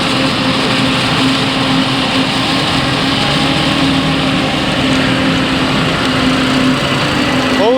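Old tractors, likely hauling grey 8-tonne trailers at a sugar beet harvest, give off a steady, loud engine drone with a faint tonal whine that holds without a break.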